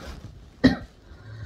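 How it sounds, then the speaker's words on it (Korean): A single short, sharp cough, close up, in an otherwise quiet room. "이게 참을 수 있는 기침이 아니네"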